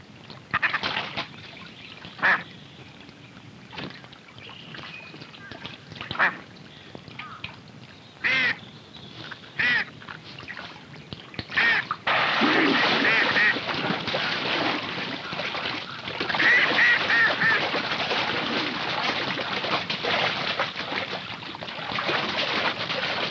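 A duck quacks and calls repeatedly while a bobcat hunts it. The sparse, sharp calls grow into a dense, loud, continuous stretch of squawking and splashing-like noise in the second half.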